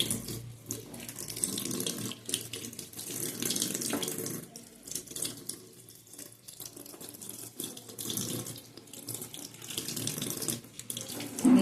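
Neem leaves being washed under a running kitchen tap, a steady splashing stream of water into a sink that carries on continuously at close range with no talking.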